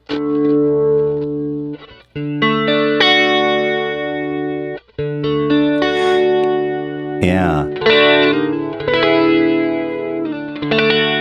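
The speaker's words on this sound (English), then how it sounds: "Let's listen to the flange." Sustained electric guitar chords with a sweeping, swirling flanger effect from a Kurzweil KSP8, loud and close, with a brief spoken word near the end.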